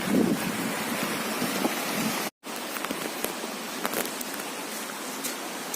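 Strong wind blowing across a riverside stone temple at Silghat, a steady loud rushing roar buffeting the microphone, with a brief dropout midway and no talking.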